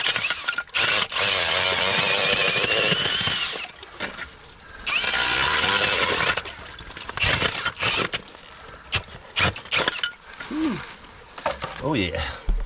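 A hammer drill set to hammer mode chisels soft bedrock during gold prospecting, loud bursts of rapid grinding percussion separated by pauses, with scraping and clanking of loosened rock in between.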